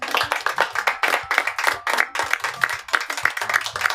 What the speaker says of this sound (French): Veuillez les applaudir.